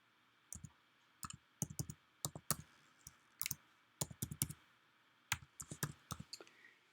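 Crisp, close clicks of a computer mouse and keyboard typing an email come in short irregular bursts, separated by quiet pauses in a silent room.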